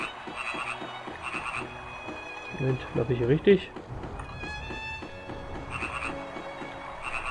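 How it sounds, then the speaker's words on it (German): Frog croaking in the video game Grandia: a short cluster of low, bubbly croaks in the middle, set against game music with a repeating chime pattern, while someone talks over the scene. "Ach, das ist ein Frosch"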